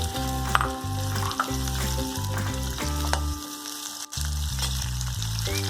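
Oil heats and sizzles in a kadhai (wok) on a gas stove while cooking egg curry, a steady close frying hiss with some clinks and rhythmic tonal hum throughout.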